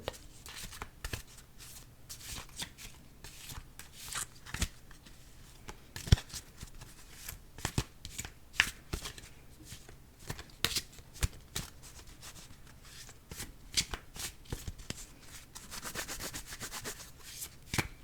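Oracle cards being shuffled up close in a quiet setting, soft papery riffles and rubbing swishes with frequent sharp card taps and flicks throughout, no voice.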